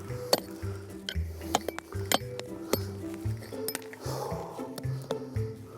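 Shovel or pick digging into hard pan and clay while hunting a deep gold target found with a pulse induction metal detector; repeated sharp metallic clinks and scrapes strike stony ground at an uneven rhythm, close by.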